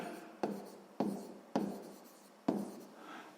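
Pen writing on paper during a sixth-grade maths exercise, four distinct strokes or taps spaced about half a second apart, each trailing off with scratchy friction, close and fairly quiet.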